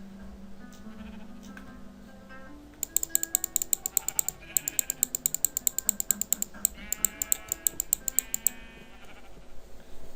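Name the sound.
sheep bleating in a video game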